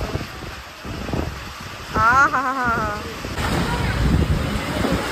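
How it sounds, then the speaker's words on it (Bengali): A strong storm at a crowded roadside tea stall brings steady wind roar and rain hiss to the microphone, while a voice speaks briefly over it partway through. "মারাত্মক ঝড় উঠেছে"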